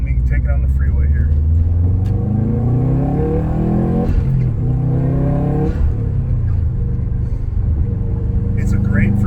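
A 2003 Subaru WRX accelerating on a freeway, its engine rising steadily in pitch through the gears with loud road rumble, as heard from inside the car while a person talks over it.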